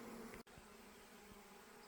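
Honey bees buzzing around a hive super on nucleus colonies, a faint steady drone with a low hum running throughout, interrupted by a brief dropout near the start.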